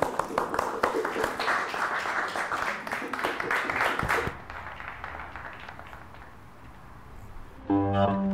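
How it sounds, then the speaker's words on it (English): Brief burst of clapping from a small group after making homemade cigar box instruments, fading out midway and leaving quiet room tone, followed by a short plucked note near the end. "Give yourself a round of applause."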